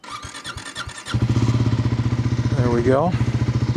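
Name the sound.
Triumph 400 XC motorcycle engine starting and idling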